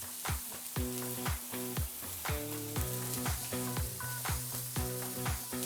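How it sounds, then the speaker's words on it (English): A tenderloin steak sears in a hot pan, with a steady close sizzle and crackle and regular rhythmic knocks and scrapes running throughout. "It's time to add this beautiful tenderloin steak."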